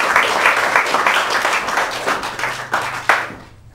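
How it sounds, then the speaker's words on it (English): A college talent show audience applauds in a dense spatter of clapping that fades out at the end, with a few louder claps near the close. "Whole round of applause."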